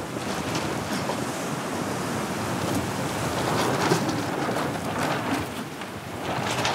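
Strong wind and rolling waves at sea off the coast of Mozambique aboard a small fishing boat, a dense, constant roar of gusts buffeting the microphone over broad wash and surf, loud and close with no pause.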